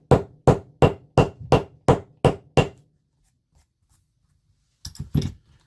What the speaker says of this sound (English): I'm doing leather work with a hammer that's probably 70 years old